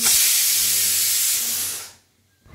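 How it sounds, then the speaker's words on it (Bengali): A pressure cooker on the stove hisses loudly with a strong continuous jet of steam for about two seconds, then abruptly cuts off into near silence before a faint return. "তো এইদিকে প্রেশার কুকারে বসিয়ে দিয়েছি, বেশ অনেক কয়টাই সিটি লাগবে"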